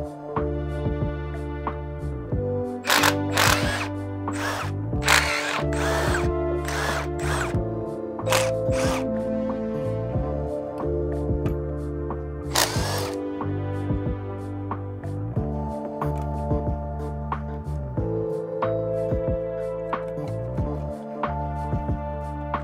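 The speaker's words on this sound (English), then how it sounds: "I'm going to take off these bolts." An 11/16 socket wrench removes bolts near the intake manifold of a 1959 Cadillac Fleetwood, with repeated short bursts of tool clatter over a steady background hum.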